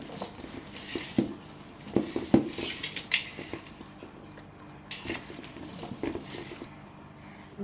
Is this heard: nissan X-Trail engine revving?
no